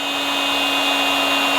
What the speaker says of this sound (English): third one, we got belt sander. That's going.